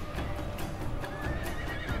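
A horse whinnies loudly amid battle in the video game Shogun 2 as a mounted rider falls, with clip-clop hooves and clashing noise in a dense mix.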